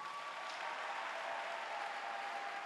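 Congregation clapping during a church service, a steady, dense wash of applause filling the whole stretch with no breaks, fairly distant and even in level.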